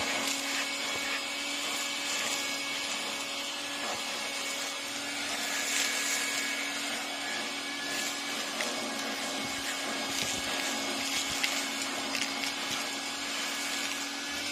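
A Stinger 2.5 gallon wet/dry shop vac runs while clogged and left with barely any suction: a loud, steady, unbroken motor roar with an airy whine that holds for the whole stretch.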